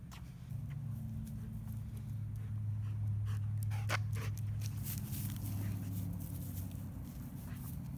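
A dog pants quickly and steadily close by, with soft rustling and faint background noise.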